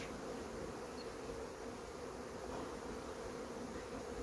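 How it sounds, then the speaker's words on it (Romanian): A crowded honeybee colony hums in a steady, dense buzz at an overfull hive, close and continuous with no voices. "Iată ce de albinuță."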